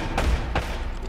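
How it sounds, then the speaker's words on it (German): Gunfire from the video game Uncharted: Drake's Fortune: two sharp, booming shots about a third of a second apart, heard alone against a steady low background rumble. "Ein Schuss hat gereicht."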